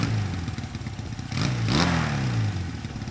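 A motorcycle engine runs close after its twin carburetor slides were synchronized, idling with a clattery putter before a sharp throttle blip rises and falls back, no speech.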